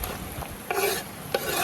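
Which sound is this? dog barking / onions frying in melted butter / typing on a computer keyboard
onions frying in melted butter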